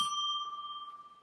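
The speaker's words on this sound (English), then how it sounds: "That gets a golden bell." A bright golden bell sound effect rings once, a clear metallic ding with a long, smoothly fading sustain, alone and close.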